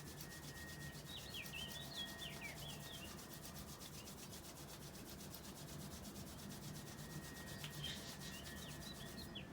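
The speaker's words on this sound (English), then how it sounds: "go ahead and rub your hands together until they feel nice and warm" Palms rubbed briskly together to warm them, a steady close dry swishing friction that runs without pause, with faint birdsong chirping in the background.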